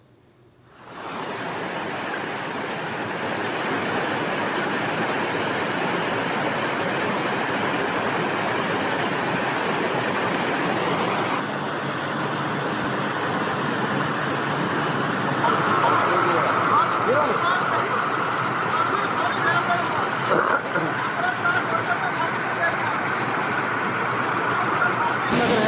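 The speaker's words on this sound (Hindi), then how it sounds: "भारी बारिश के कारण बहुत ही पानी बह रहा है ऊपर से" Heavy floodwater roars down from above after torrential rain in Kishtwar, a loud, steady rushing wash that sounds close and keeps going without a break.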